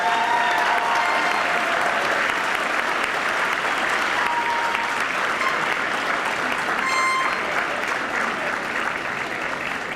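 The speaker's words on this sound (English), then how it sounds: "can you please give yourselves a round of applause for your support?" Families of new recruits clap together at a fire department graduation ceremony, a dense, steady applause that holds loud and even for the full ten seconds, with a faint voice or two under the clapping.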